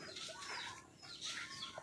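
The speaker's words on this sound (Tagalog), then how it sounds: "Ay yung mga manok" Chickens on a Zambales farm cluck and squawk close by in an irregular run of short calls, with bird chatter overlapping throughout and no talk.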